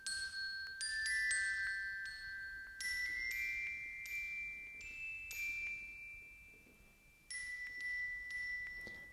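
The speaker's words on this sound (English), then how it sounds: "The Glock is outlining the notes." A bright glockenspiel rings out the Jingle Bells melody in a pop Christmas arrangement, clear struck tones in short phrases with sustained shimmering decay, rising and stepping through the tune over a soft backing.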